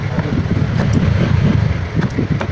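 Steady low rumble of road traffic passing near an outdoor car rubber-suspension fabrication job, continuous and fairly loud throughout with no talking.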